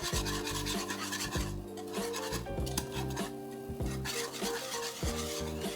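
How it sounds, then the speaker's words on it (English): A spoon scrapes and stirs around a metal pot, dissolving a seasoning packet, bouillon and flour in liquid, producing repeated rhythmic rasping strokes and light clinks against the pot's sides up close. "I'm gonna mix it around just to dissolve the seasoning packet as well as some of the bouillon"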